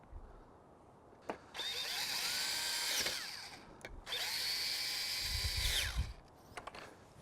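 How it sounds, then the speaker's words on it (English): Cordless power drill driving screws while installing a Bestop Trektop soft top on a four-door Jeep Wrangler JK Unlimited; two long, loud whirring runs of several seconds each with short clicks and pauses between, no talking. "To go ahead and start those screws."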